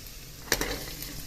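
Ivy gourd frying in oil in a pan, a steady close sizzle with one brief utensil scrape, no voices.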